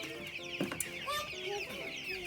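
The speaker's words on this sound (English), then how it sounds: "Now to go get the chicks." Chicks cheep and cluck in a close, busy cluster, with soft overlapping chirps and chatter running continuously through a short moment.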